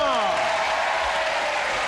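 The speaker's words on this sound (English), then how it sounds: "William, I said applaud. Applaud." A television game show studio audience applauds, a dense, even wash of clapping throughout, with a descending electronic tone sweeping down at the start.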